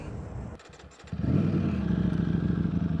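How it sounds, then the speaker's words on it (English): A 2021 Ducati Streetfighter V4S with a Termignoni exhaust idles roughly, falls briefly quiet, then rumbles up louder into a steady, throaty drone as the bike pulls away. "let us go for a ride on my 2021 Ducati Streetfighter V4S Dark Stealth"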